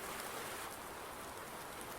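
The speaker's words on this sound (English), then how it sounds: "Watch it snow and rain" Steady, even rain hisses faintly and without a break through the weather of a winter day in the Farming Simulator 19 video game.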